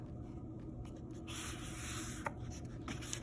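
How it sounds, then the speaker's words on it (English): Thick paper is folded in half and creased, a soft rustling rub that rises briefly and then settles, with a couple of faint taps in a quiet room. "we're just going to take this paper and fold it in half."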